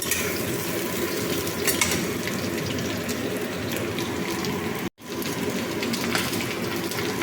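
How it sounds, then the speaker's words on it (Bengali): Two potatoes cut into long strips frying in a pan with a continuous crackling sizzle, briefly cutting out for an instant midway, with no talking. "দুটো আলু লম্বা লম্বা করে কেটেছি দুটো আলু আমি ভেজে নিচ্ছি"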